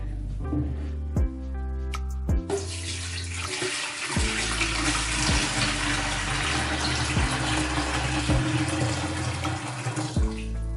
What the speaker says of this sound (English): I'm going to now fill this up with water.